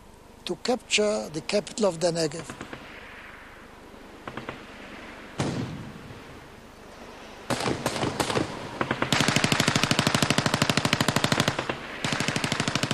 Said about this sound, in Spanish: Después de un intercambio de disparos, los egipcios del fuerte se rindieron.